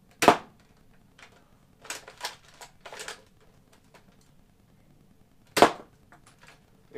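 Nerf blaster firing foam darts tipped with thumb tacks: two sharp, loud pops roughly five seconds apart, each with a quick thwack, with softer clicks and rattles of reloading between them.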